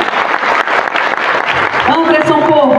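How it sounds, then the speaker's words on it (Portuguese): Audience applause at a business seminar in Caruaru, Brazil, dense and steady through most of the stretch, then thinning as a voice starts speaking over it near the end. "Aplausos, gente."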